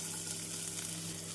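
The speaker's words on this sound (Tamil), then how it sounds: "நாம் பூண்டு சேர்த்து 1 நிமிடம் வதக்கிய பின் நறுக்கிய வெங்காயத்தை சேர்த்து விடலாம்." Garlic and chopped onion frying in oil in a pan, a steady close sizzle with soft crackle that continues alone without pause.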